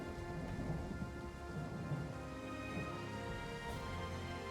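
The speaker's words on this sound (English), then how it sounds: "Alright, I don't hate the rain." Rain and thunder in a strategy video game, a steady hiss of rainfall under a low rolling rumble of distant thunder, continuous and fairly faint, mixed with soft background game music and no talking.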